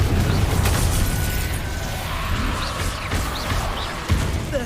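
Confringo spell blasts during Hogwarts Legacy combat: dense booming and crackling explosions pile up under a constant rumbling roar, with a sharper burst near the end.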